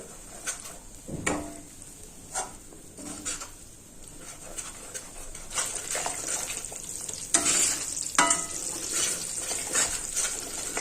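Spoon scraping and stirring flour roasting in ghee in a pan with a light sizzle, irregular strokes and occasional clinks, close by with no talking.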